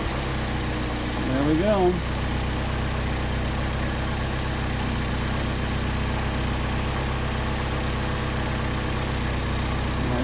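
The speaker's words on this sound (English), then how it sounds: "I can hear the engine idle change." A Mercedes 190SL engine idles steadily on Solex 44PHH carburetors, a loud continuous low rumble with a brief rev near the start, and someone speaks briefly over it.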